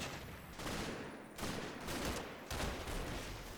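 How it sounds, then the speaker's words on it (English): Mortar rounds land in rolling bursts around a defensive line during a WWII Combat Mission battle of Operation Epsom, with dense overlapping explosions and crackling fire that swell and ease in waves, loud and continuous without voices. "Mortar rounds, which aren't mine, start to land around phase line blue"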